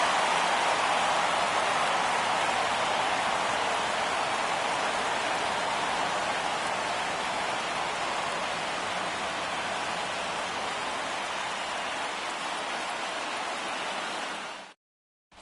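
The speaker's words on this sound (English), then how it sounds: "The rain is here, and it doesn't look like it's going away anytime soon." Steady, dense rain pours down over a ballpark in MLB The Show during a Mets versus Phillies game, a constant loud hiss that holds evenly for about fifteen seconds before cutting off abruptly.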